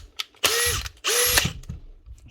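Repaired Makita drill with a fixed-up gearbox and new chuck, run in two loud, whirring bursts about half a second each, revving up then winding down, close and with no talking.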